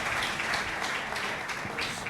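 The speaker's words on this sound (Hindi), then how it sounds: "इनके लिए जोरदार तालियां बजाइएगा रेवरेंड साहब के लिए।" Church congregation applauding Reverend Waris at a coordination meeting, a dense, even wash of many hands clapping at moderate level for the whole stretch.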